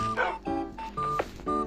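A dog barks in the video game Minecraft, a quick run of four or five sharp, loud yaps in close succession, with a game tone sounding alongside.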